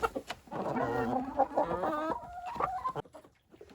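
Chickens cluck and squawk together in a busy, fairly close flock, with overlapping calls continuing steadily while eating, before a brief quieter pause near the end.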